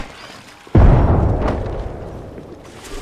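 Frag grenade exploding in Apex Legends, a single sudden loud boom followed by a long rumbling decay, close and alone.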